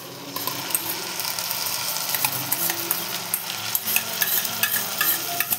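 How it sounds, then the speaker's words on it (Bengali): Drumstick leaves fry with onion and garlic in hot oil in a pan, a close, continuous sizzle broken by scraping and clicking as a spatula stirs, with no voices. "এটাকে ভালো মতন ভাজতে হবে, একদম যতক্ষণ না শুকিয়ে যায়, তেল ছেড়ে যাবে"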